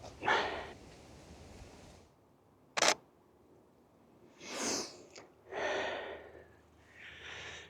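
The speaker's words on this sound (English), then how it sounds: "So it's really nice back using a DSLR again. You know, the shutter sound" A Canon DSLR shutter fires once as a single sharp, brief click, set among outdoor wind rumble, soft breathy noises and rustling during bird photography in Canada.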